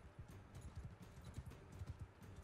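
Horse hooves clip-clop steadily in the video game Mount and Blade II Bannerlord, a close, uneven run of soft thuds with no voices.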